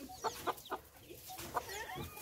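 A free-range village hen clucks softly near her ten newly hatched chicks, a quiet run of short rhythmic clucks with faint high peeping toward the end.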